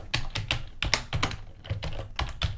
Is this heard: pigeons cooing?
no